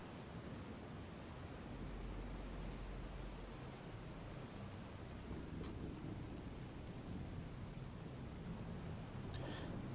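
Thunderstorm with rain in the naval warfare game Destroyer: The U-Boat Hunter, a faint, steady wash of rainfall with a low rolling thunder rumble near the start and a swell of heavier rumbling later, no voices.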